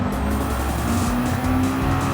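Race car engine in Gran Turismo 7 at the Nürburgring GP, a steady loud drone with a sustained tone through a turn and a faint tyre squeal, continuous for the whole stretch.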